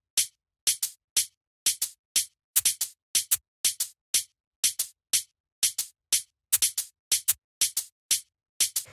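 Shaker samples and a hi-hat in a jazzy house beat tick together in a steady, busy pattern of bright, short hits, quick pairs interlocking without pause at a moderate level and with no voices.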